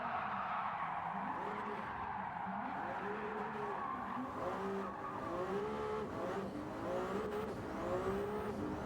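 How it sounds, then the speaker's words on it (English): Turbocharged V6 race car engine in Gran Turismo, revving up and down through repeated gear changes with rising and falling whine, accompanied by occasional tire squeal. "Car sounds great though."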